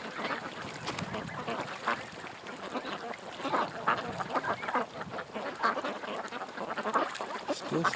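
Ducks quack loudly and repeatedly on open water, a busy overlapping chorus of calls with a steady background hum, recorded from a drone hovering just above them.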